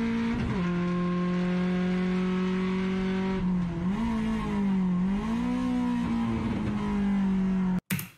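A race car slowing on the Curitiba circuit, heard onboard as a steady, close engine drone that sags and wavers as speed bleeds off, ending in a brief abrupt cutout.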